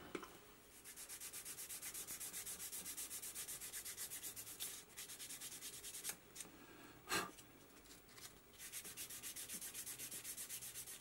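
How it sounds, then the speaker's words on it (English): The edge of a leather watch strap is sanded by hand with fast, even rubbing strokes, a soft, close, continuous scratchy rhythm with a few short pauses. "So once we have this one sanded down"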